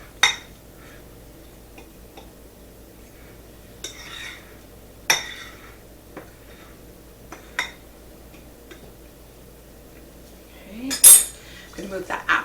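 A utensil lightly mixing apple fritter bread ingredients in a bowl gives sparse, quiet clinks and taps against the dish at irregular intervals, ending with a brief louder scrape and clatter.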